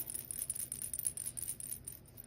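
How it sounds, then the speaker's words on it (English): A small rattle inside a cat toy wand being shaken gives quiet, quick bursts of bright, gritty clicking over about two seconds, faint and close. "that's the rattle. It's the same rattle in every toy that has a rattle."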